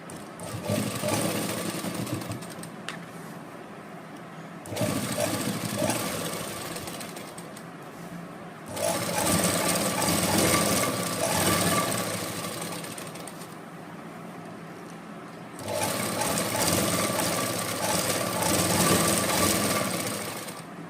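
Electric sewing machine stitching a salwar, running in several long steady bursts of rapid mechanical whirring separated by short pauses, loud and close with no talk.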